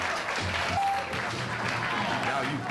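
Steady, dense applause from an audience at a graduation party, sustained and fairly loud throughout, with a crowd of many hands clapping together and no single voice standing out.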